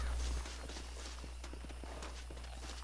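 Horse hooves clop along at a steady walking pace in the Red Dead Redemption video game, faint and even under a constant low hum.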